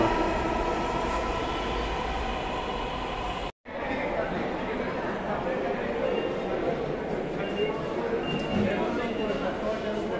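A Dhaka metro train rumbles along at speed between Mirpur 10 and Motijheel, steady and loud, with a brief dropout and faint voices mixed in beneath the rolling noise.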